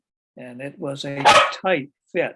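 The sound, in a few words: dog barking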